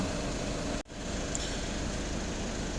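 A cold Skoda Octavia 1.6 TDI diesel engine idles while warming up, a steady close low drone with one brief dropout near the start, no talking.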